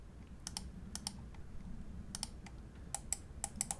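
An Endgame Gear XM1 gaming mouse's side buttons click in crisp, sharp pairs and short bursts, close and quiet over a low background hum, with no speech.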